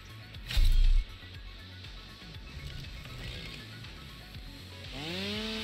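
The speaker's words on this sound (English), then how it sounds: "It's a little laggy pulling out the tilt with the old chainsaw" A chainsaw cuts in the video game Satisfactory, with a loud, short burst of buzzing up close followed by a lower rough grinding, then a rising whine near the end.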